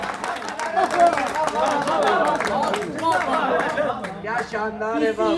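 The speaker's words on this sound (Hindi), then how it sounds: "इस शेर की कबूलियत के लिए भरपूर तालियां" An audience at a poetry gathering applauds after a couplet, a steady wash of clapping mixed with crowd chatter and excited voices, fairly close and sustained throughout.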